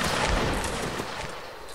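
A regiment's musket volley in a video game: a dense, rolling crash of many shots fired together, loud and close, decaying over under two seconds.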